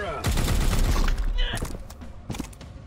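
Weapons fire in the turn-based strategy game Warhammer 40,000: Chaos Gate - Daemonhunters: a loud volley of shots and impacts, then several sharper, separate bangs as the barrage trails off, with some voice-like sound mixed in.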